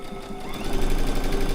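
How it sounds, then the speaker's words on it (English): Sewing machine stitching a fabric bowl cozy from corner to corner, a fast steady mechanical whirr with a rapid needle rhythm, close and even, no voices. "I'm going to sew from corner to corner."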